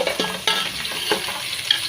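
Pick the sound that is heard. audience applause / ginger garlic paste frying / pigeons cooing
ginger garlic paste frying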